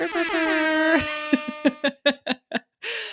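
A blaring horn-like tone, then a series of short rhythmic bursts and a final blast, loud and close; it may be a voice imitating an air horn.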